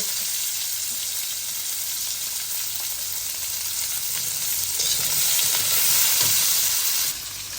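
Green chilies frying in a little oil in a pan give a steady, close sizzle that holds throughout and swells slightly louder toward the end.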